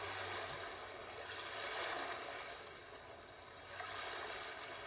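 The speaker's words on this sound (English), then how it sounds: "ocean" Ocean waves from a bedroom sound machine, a broad soft wash of surf that swells and recedes in slow surges, quiet and continuous with nothing else over it.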